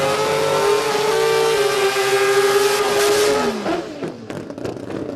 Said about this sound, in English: So that's the sound of a 3-rotor